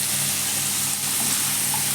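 Peas and cauliflower sautéing in oil in a home kitchen pan, giving a steady, even sizzle that stays close and loud throughout with no talking.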